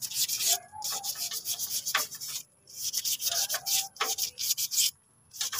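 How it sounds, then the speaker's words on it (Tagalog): Sandpaper rubbing by hand on a surface during a repair job, a close, loud, rhythmic scratchy back-and-forth with short pauses between bursts of strokes. "Lihain mo muna."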